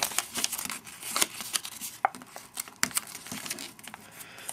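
Origami paper is folded and creased by hand for a geometric open box, with close, crisp crinkling and rustling in quick irregular bursts.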